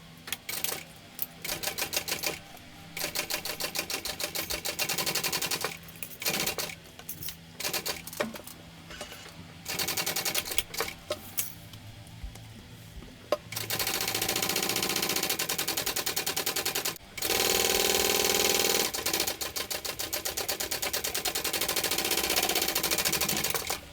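Sewing machine top stitching the side of a mini dual compartment crossbody bag, running in rapid mechanical bursts separated by short pauses, then longer continuous stretches of loud, close, even stitching.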